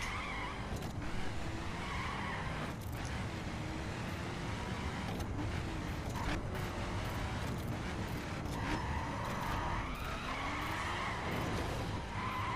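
Tires skid and squeal through a long drift in the racing game The Crew, with engine roar and repeated screeching bursts over a steady loud rumble, no talking.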